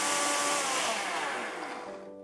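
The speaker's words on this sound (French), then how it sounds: "Maintenant que c'est cuit, on va tout repasser au mixeur." A blender whirs loudly as it purees cooked yakiniku sauce for Japanese burgers, a dense steady motor roar that winds down at the end.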